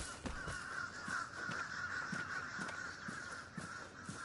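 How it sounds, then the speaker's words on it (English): Crows caw in the video game Vigor, a repeated harsh rhythmic cawing at moderate distance over a steady outdoor ambient hum, with no talking. "Crows means players sometimes"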